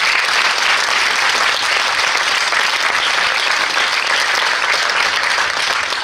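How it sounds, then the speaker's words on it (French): A festival opening ceremony audience claps, loud and steady throughout with no break. "Et je vous demande de les applaudir très fort."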